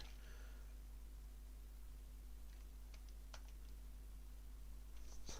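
Someone types on a computer keyboard, entering a command in a game: a few sparse, sharp key clicks come in short clusters over a steady low electrical hum.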